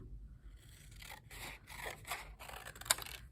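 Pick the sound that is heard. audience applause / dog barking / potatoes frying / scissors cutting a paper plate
scissors cutting a paper plate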